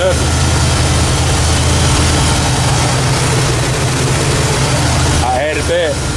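A Ford Thunderbird 5.0 engine with a new carburetor idles smoothly and steadily, a low continuous rumble with a few faint higher tones near the end.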